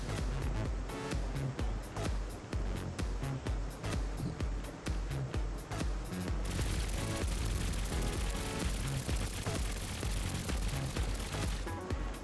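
Eight smart cannons on a dogfighter plane in Trailmakers fire in a dense, continuous rapid barrage, loud and unbroken throughout, with no talk over it.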